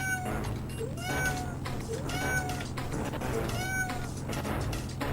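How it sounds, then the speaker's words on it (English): A pet cat meows several times with rising, drawn-out calls, heard over a steady low hum and background sounds during an Amiga game livestream. "this meow you can hear is actually my cat"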